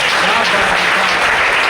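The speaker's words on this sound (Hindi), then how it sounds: "हाथ ऊपर करके ताली बजाओ" Audience members at a direct selling training session in Panipat, Haryana clap their hands in a short, loud burst of close applause with a voice faintly mixed in.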